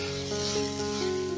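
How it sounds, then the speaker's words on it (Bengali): Garlic, onion and green chillies fry in a pan for a cabbage-leaf paste, giving a brief, steady close-up sizzle with a faint tonal hum underneath. "এবারে একটু সামান্য করে ভেজে নেব"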